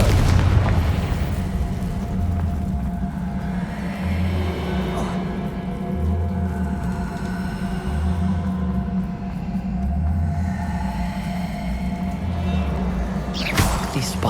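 In Hogwarts Legacy, a Confringo spell sets off a series of low, rumbling booms, fairly faint and repeating every couple of seconds beneath a continuous game soundscape.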